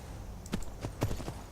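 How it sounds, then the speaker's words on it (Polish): Horse hooves clip-clop in the Skyrim video game, a handful of faint, spaced hoof strikes over a steady background hiss. "Tutaj mamy konia."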